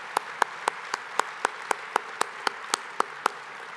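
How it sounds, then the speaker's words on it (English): Clapping at an awards luncheon comes as a string of distinct, evenly spaced claps in a brisk, regular rhythm, about a dozen sharp hits over a faint background for under four seconds. "Let's please just give them a quick round of applause as well."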